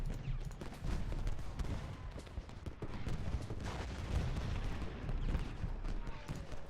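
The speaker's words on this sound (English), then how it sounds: "Alright, so those cannons are now firing." Rapid booming Civil War cannon fire and gunshots from the battle game Ultimate General: Gettysburg, repeated dense blasts over a continuous rumbling din.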